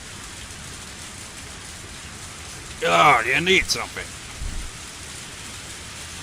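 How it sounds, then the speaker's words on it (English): Steady rain hisses throughout a scene in the Higurashi visual novel video game, constant and fairly close, with a short spoken line and a faint low rumble of thunder partway through. "This sudden rain has us in a bit of trouble."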